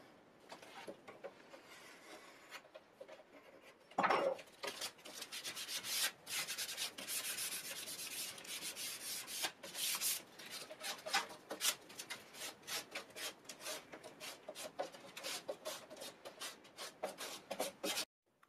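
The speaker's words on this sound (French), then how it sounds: "tu peux aussi prendre un outil qui peut t'aider, qui peut gratter. Pour finir d'enlever toute la peinture." A hand scraping tool rasps over wood to strip off remaining paint, a continuous dry, gritty scratching made of quick repeated strokes, close and steady for the whole stretch with one louder scrape early on.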